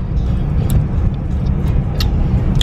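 A car being driven, heard from inside as a steady low road and engine rumble with faint clicks and rattles on top, no talking.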